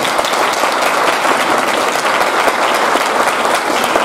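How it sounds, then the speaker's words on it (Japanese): An audience claps throughout at a celebration party and send-off rally for school sports teams. The applause is loud and steady with dense, continuous claps, and no voices stand out. "はい、では拍手お願いします。"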